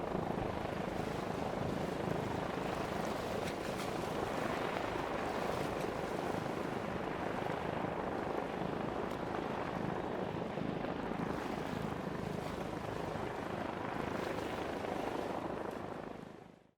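Steady, loud helicopter rotor roar and engine drone with wind buffeting, continuous throughout and fading out at the very end.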